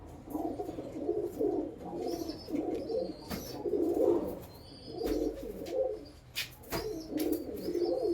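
A male pigeon coos in repeated low, throaty phrases, rising and falling in a steady rhythm close by, with faint chirps from other birds in the background.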